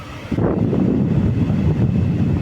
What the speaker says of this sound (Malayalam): ഇപ്പോഴും ഫാൻ ഫുൾ സ്പീഡിൽ വന്നുകൊണ്ടിരിക്കുകയാണ്.